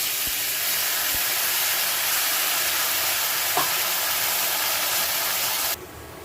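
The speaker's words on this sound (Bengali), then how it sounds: "ফোড়নটা ভাজা হয়ে গেছে দিয়ে দিচ্ছি পেঁয়াজ বাটা" Onion paste hitting hot oil and butter already spiced with bay leaf and whole garam masala gives a loud, steady sizzling hiss that holds unbroken before cutting off abruptly near the end.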